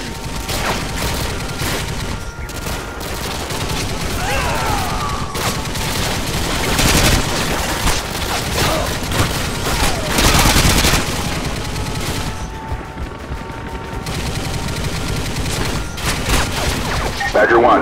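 Heavy gunfire engaging infantry in Call of Duty Modern Warfare 2 rattles in sustained, loud machine-gun bursts, with booming impacts and chaotic battle noise throughout.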